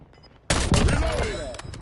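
Black Ops 7 Warzone gunfire bursts in after a brief quiet moment: a loud, close volley of rapid shots with a ringing tail that fades slowly.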